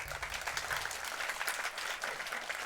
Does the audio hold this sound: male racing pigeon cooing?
no